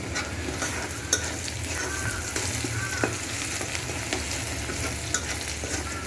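Onions frying and being stirred in a pan for a radish-greens dish, a steady close sizzle with occasional scrapes and clinks of the spoon against the pan, no talking.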